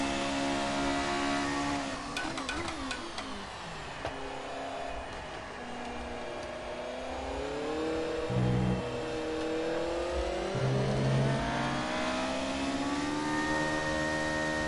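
A 1972 Formula 1 car engine in the F1 2018 racing game whines and revs continuously, pitch rising and falling through gear changes as the car accelerates and brakes, loud and alone.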